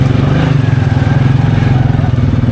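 Belt-drive off-road side-by-sides from Can-Am, Polaris and Kawasaki idling and running on a jungle trail, a loud, steady, rumbling engine drone close by that never lets up.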